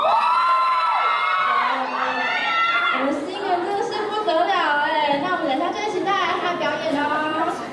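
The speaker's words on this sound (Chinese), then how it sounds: "粉丝团可以尖叫一下吗？" A fan club at a university advertising department's stage show screams and cheers loudly, a dense crowd of high-pitched shouts and whoops that swells after a few seconds and keeps going.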